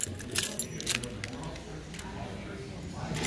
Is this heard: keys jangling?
yes